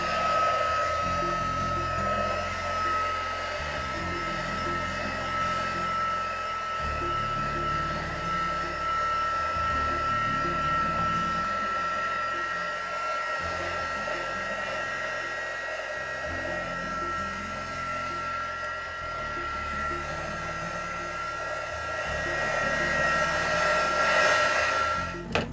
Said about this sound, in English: use your heat gun, and all you're going to do is dabbing motions to the ribbon